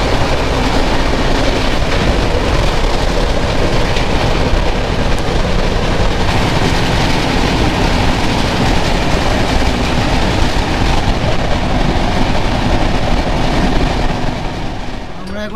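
The 12883 Rupasi Bangla Express running from Santragachi toward Bankura, heard as a loud, continuous rumble of wheels on rails with rhythmic clatter from inside the train.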